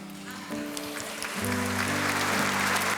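Congregation at a Sunday Mass applauding in church: clapping swells into a broad, sustained roar over held musical tones, growing louder after the first second.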